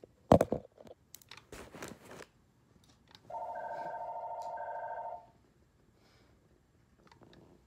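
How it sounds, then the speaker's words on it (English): A few soft clicks and rustles, then a single electronic phone ring tone sounds for about two seconds before fading to quiet. "I hate when the phone rings"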